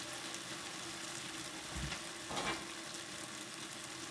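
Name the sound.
onions frying in a pan for Chinese beef curry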